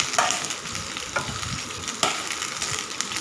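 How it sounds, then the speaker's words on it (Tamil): Cut okra frying in hot oil in a pan for a tamarind curry: a loud, steady sizzle close by, with a few sharp clinks of stirring and no talk. "நம்ம கட் பண்ணி வச்சுருக்க வெண்டைக்காவை சேர்த்துட்டு நல்லா வதக்கி விட்டுக்கலாம்"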